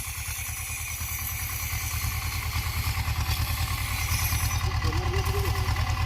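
A tractor engine ploughing a farm field before the rains, a steady rhythmic diesel chug with fast regular pulses, loud and close, growing slightly stronger as it runs, with no talking.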